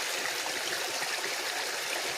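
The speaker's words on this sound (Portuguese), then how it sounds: "Olha o tanto de cachoeira que tem no riozinho aqui." A small stream with little waterfalls rushes and splashes in a steady, continuous wash of water, close by, with no talking.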